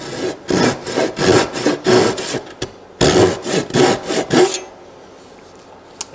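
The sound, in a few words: cutting an oak stool seat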